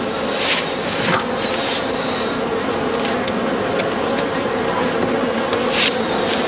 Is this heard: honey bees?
yes